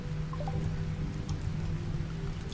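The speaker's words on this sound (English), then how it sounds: "It's raining." Steady rain falls in the colony-building video game RimWorld, a dense, even hiss of drops with faint scattered ticks running throughout at constant volume.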